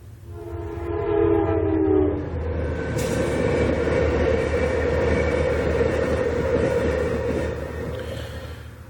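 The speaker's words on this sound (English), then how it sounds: "Got a train coming. I think it's a quick one." A train rumbles past nearby, its horn sounding briefly at the start before a steady roar of wheels and cars fills the rest.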